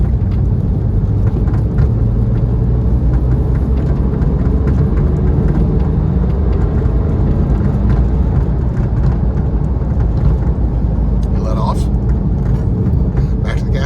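A car pulls away on a circuit race track, its engine rumbling steadily and close throughout, with constant cabin noise and a voice talking over it.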